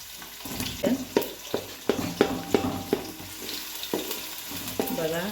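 Crushed garlic and onion frying in hot oil in a pot, with a low sizzle under repeated sharp clinks and scrapes of a spoon stirring against the metal, close by.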